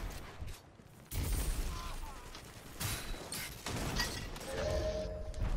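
Shotgun fire and other gunshots crack through a multiplayer shooter match, several sharp loud bursts mixed with clattering game effects while players talk over voice chat.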